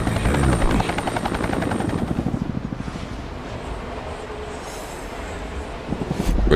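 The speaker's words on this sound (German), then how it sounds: "Der Helikopter." A helicopter in the video game XIII Remake thrums with a steady, close rotor chop that stays loud and continuous throughout, with no talk over it.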